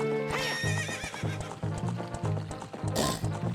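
A horse from the game The Legend of Zelda: Ocarina of Time whinnies loudly near the start, then clip-clop hooves and game music run steadily beneath, with a second shrill neigh near the end.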